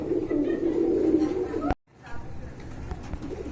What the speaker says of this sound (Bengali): এখানে দেখতে পাচ্ছেন একটা খাকি কবুতর রয়েছে